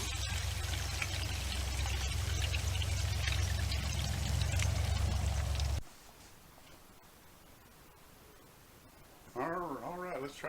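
Hot frying oil pours and streams steadily off a deep-fried ham as it is lifted to drain, a loud continuous rush that cuts off abruptly, followed by quiet drips and then someone talking.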